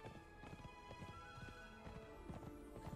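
A horse galloping in the video game Conan Exiles, rapid rhythmic hoofbeats thudding close and steady for a few seconds with no speech.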